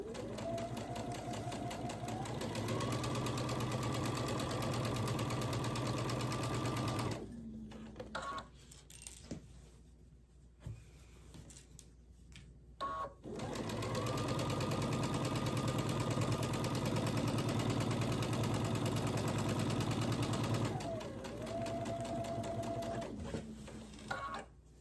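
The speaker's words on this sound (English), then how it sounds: "line them up, and stitch down this side" A sewing machine stitches jelly roll quilt strips with a quarter-inch seam in two long, steady whirring runs whose pitch rises as the speed picks up, separated by a quiet pause with faint handling noises.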